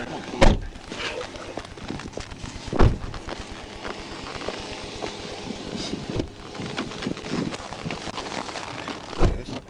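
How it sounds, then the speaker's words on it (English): A few heavy thunks of a car door slamming stand out over a steady background of traffic and engine noise, with faint voices in between, at a roadside stop after a police pursuit. "Shut that door."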